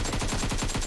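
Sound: hip-fire gunshots in video game PUBG Mobile

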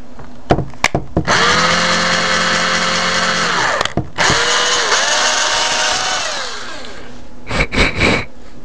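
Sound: electric drill enlarging hole in flashlight

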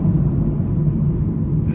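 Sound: supercharged truck engine accelerating

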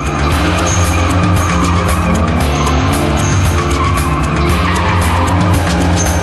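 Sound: car doing burnouts and donuts with skidding tires

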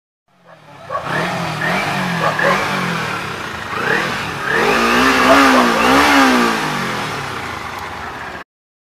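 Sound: Kawasaki Ninja motorcycle engine revving

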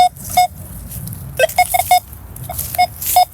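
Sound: metal detector beeping over steel shrapnel

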